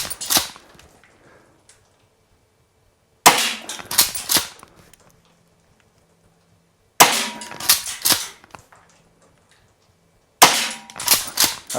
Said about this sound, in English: I'm going to shoot at the top here and to the left just.